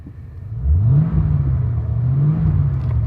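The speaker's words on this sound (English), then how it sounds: "Sounds just like a Ford V8. And listen to that engine." A Lincoln Town Car's V8 engine with a Cherry Bomb exhaust revs up close, its deep rumbling note rising and then holding at a steady, throaty idle, loud with no talking.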